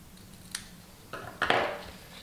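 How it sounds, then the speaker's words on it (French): Scissors cut paper at the corners while making a scrapbook album, giving a few short, crisp snips spaced apart, close and fairly quiet against a soft room background. "On coupe au niveau des angles"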